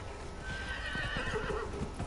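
A horse whinnies in Dragon Age: Inquisition while its hooves clip-clop along, the neigh and footfalls close and clear for about two seconds with no talk over them.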